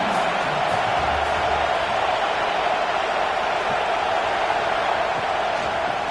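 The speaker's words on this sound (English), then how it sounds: "Listen to this crowd just shaking the girders of this place, trying to help their defense" A simulated college football stadium crowd in College Football 26 roars continuously, a dense, steady wall of distant cheering and noise that holds at a constant level throughout.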